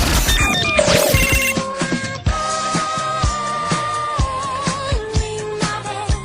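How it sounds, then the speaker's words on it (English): A bright, electronic ringing tone plays loudly and steadily, with repeated chiming notes over a musical backing. "at the end of every sale, they need to ring that bell"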